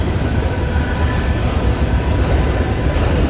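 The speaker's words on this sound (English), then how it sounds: "the CSX M513 makes its way down the Henderson Subdivision to Nashville" CSX M513 freight train rolling along the Henderson Subdivision toward Nashville, Tennessee, a loud, steady, close rumble of passing railcars with continuous rattling and no talking.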